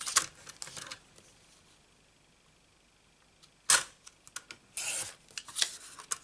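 A mini paper trimmer slices through cardstock in two or three short, crisp sliding cuts with small clicks, heard close up and alone between quiet pauses.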